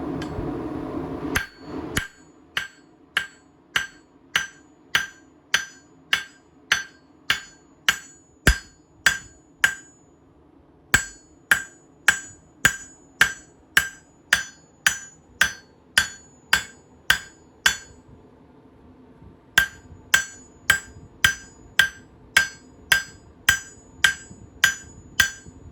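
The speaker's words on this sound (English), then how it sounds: "when you start hammering on your piece of metal" Hot metal being forged for knife making, struck by a hammer in a steady rhythm of loud, ringing blows, about thirty in all, broken by two brief pauses.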